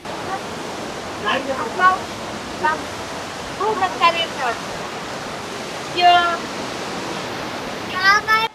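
Constant rushing roar of the Japali waterfall near Tirumala, loud and close among rocks, with several people's voices breaking through intermittently over the falling water.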